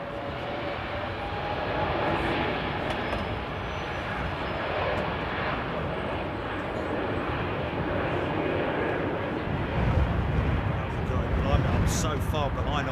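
An airliner departs London Heathrow Airport, its broad jet engine roar rumbling steadily throughout and swelling slightly louder near the end, with faint voices beneath.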